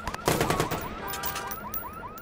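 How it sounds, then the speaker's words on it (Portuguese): Gunfire in the Watch Dogs video game, a shotgun blast followed by a quick burst of shots, with an alarm-like siren wailing in the background afterward. "vamos testar essa espingarda aqui"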